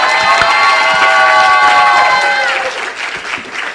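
Symposium audience claps and cheers loudly, with whoops and voices ringing through the sustained applause, which eases off slightly toward the end.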